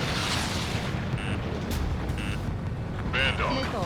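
A drone is shot down in Ace Combat 7 amid aerial combat, a dense rumbling explosion blending with jet roar and warning beeps, with radio chatter layered over it.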